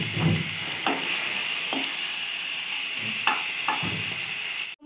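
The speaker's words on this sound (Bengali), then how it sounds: "তেলটা গরম হয়ে গেছে। সো এখন আমি মাছের মাথাগুলো ছেড়ে দিব" Fish heads fry in hot oil for a cabbage dish, giving a steady close sizzle with a few sharp scraping stirs of a utensil in the pan, ending in a brief handling knock.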